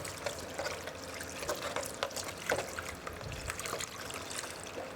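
Water runs steadily from a tap for hand washing, a soft continuous trickle and splash at close range, fairly quiet throughout.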